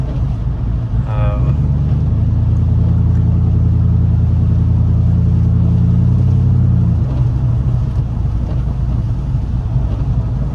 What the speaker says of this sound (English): Idling at 725, it doesn't really tug on the converter any.